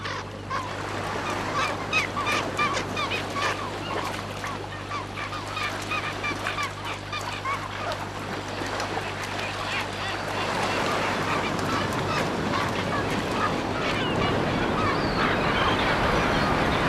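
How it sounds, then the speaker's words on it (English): Kelp gulls scavenging pieces from a leopard seal's kill call over and over in loud, harsh honking cries, with a steady hum underneath through the whole stretch. "Kelp gulls share the bigger pieces."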